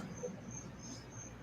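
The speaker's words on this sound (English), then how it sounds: "you can hear the crickets outside." Crickets chirp outside in a faint, steady pulse of high trills under a quiet background hum.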